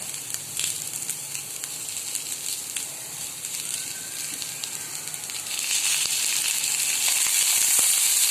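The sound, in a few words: onion and garlic roasting in a little oil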